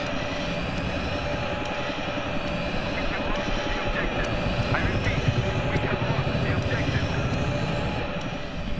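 Roaring jet aircraft engine in the video game Battlefield 3, on the Kharg conquest map, a steady broadband roar that holds throughout with game ambience and a voice talking over it.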